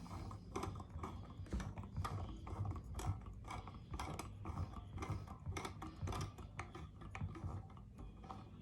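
A manual eyelet press lever being turned until it locks gives a fast run of close mechanical ratcheting clicks, like a pawl over gear teeth, sustained and quiet with no talking.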